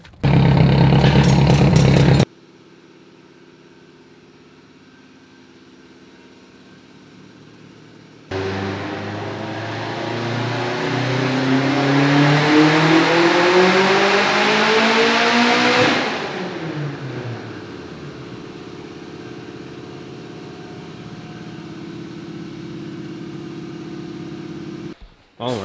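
A 2007 Subaru STi with a rotated turbo kit making a pull on pump gas: a loud burst, then a low idle, before the engine revs steadily up through a long wail, backs off, and settles into idle.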